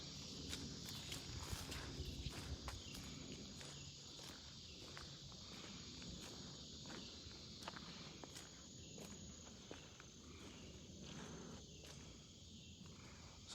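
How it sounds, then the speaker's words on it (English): Tree frogs calling near a gravel bar along the Meramec River, a steady buzzing, trilling chorus with repeated short pulses, fairly faint and constant, with outdoor ambience and occasional footsteps. "So the two frogs that we're hearing are tree frogs. Sound like they're calling to each other."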